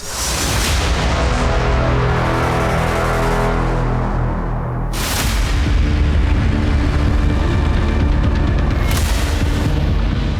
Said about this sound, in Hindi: इजराइल की सेना ने कराज में मिसाइलों से बड़ा हमला किया है